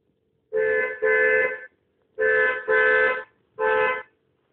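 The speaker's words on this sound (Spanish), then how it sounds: "versus el ruido de una bocina." A car horn honks five times in steady, evenly toned blasts, grouped as two quick honks, then two more, then a single final one, loud and clear with silence between the groups.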